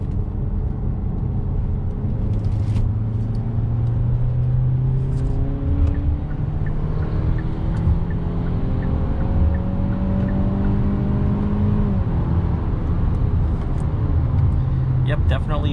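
Cabin engine drone from a 2022 Hyundai Santa Fe SUV driven in sport mode, held at higher RPM as steady rising tones climb through gear changes, with a voice talking throughout.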